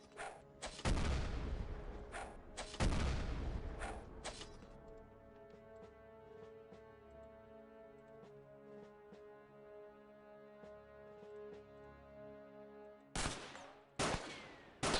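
Bursts of gunfire in the Xcom Files video game, loud clustered volleys early on, then a lull under a droning tone before several sharp shots return near the end.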